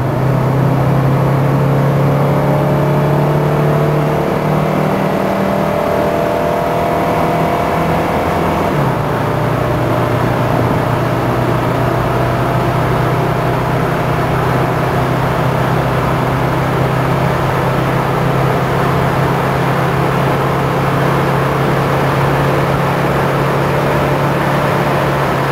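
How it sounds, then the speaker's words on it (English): A Mercedes-Benz 300 SD pulls hard from 60 to 100 mph, its engine droning loud and steady under heavy wind and road roar, with a gear change partway through and no talking. "Now for an example of the vehicle's 60 to 100 mile an hour acceleration."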